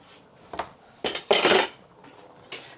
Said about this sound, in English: And again, we'll give that a mix.